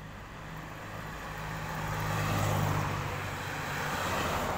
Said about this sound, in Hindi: आपको आती जाती गाड़ी की आवाज़ भी सुनाई देगी